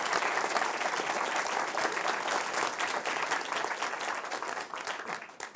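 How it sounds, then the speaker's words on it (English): A theater audience at the Montclair Film Festival claps loudly and steadily for several seconds, then the applause begins to fade near the end. "that deserves a tremendous round of applause"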